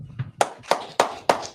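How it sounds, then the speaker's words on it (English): Clapping from a congregation at a Sabbath service: a few soft low thumps, then four sharp, close, evenly spaced claps in a steady rhythm, no voices. "All right, clap it up."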